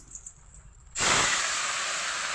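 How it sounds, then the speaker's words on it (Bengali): Colocasia stems coated in salt and turmeric hit hot oil in a wok, and a loud, steady frying hiss erupts about a second in and continues close up to the end, with no talk. "এবার আমি এগুলো ভেজে নেব।"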